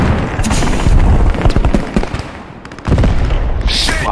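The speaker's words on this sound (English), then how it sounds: "Lots of explosions." Dense, loud bursts of explosions and rapid booms from the World War II game Post Scriptum pile up close together, a chaotic barrage that briefly thins before surging again.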